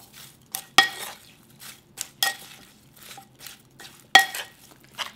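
Spicy cucumber side dish being mixed with sugar and sesame seeds in a bowl, giving soft irregular clinks and scrapes of utensils against the dish with quiet pauses between strokes, close by and with no talking.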